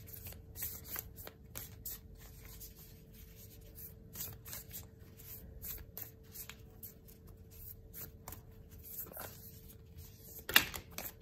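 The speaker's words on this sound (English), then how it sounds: "These cards are literally, you know, difficult to shuffle because of their shape." Stiff heart-shaped tarot cards being shuffled up close in quick, repeated riffling bursts with a steady faint hum underneath, ending in one sharper slap.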